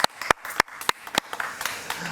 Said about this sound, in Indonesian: Keren, kasih tepuk tangan dulu dong.